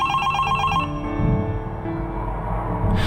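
A phone box telephone rings in the video game Garry's Mod, a loud, close electronic bell trill that sounds steadily and then cuts off near the end, with nothing else heard.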